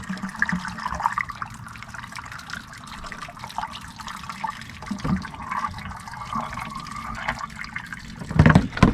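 Water pours steadily through the filler neck into the fresh-water tank of a 2015 Tab Max-S trailer, a continuous rushing, gurgling flow heard close up with a brief louder splash near the end.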